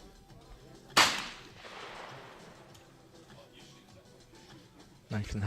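A shotgun fires once at a clay target during a mixed trap final, a sharp, loud crack that rings out and decays. A second blast begins near the end, and a commentator talks throughout.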